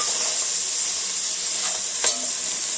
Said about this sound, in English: we'll just let them saute for a minute or two